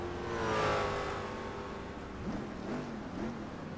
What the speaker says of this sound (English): revving his Vitaphone Corvette